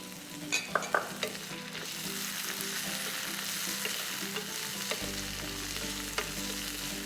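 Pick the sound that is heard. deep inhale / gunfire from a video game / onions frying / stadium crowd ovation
onions frying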